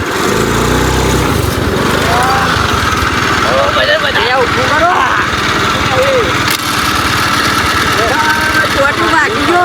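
A Honda Activa scooter engine runs loud and close with a steady buzzing drone throughout, while people talk over it.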